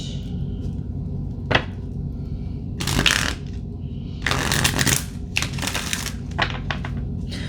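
Tarot cards being shuffled by hand, with several separate bursts of crisp riffling and slapping, near and clear over a steady low background hum, and no talking.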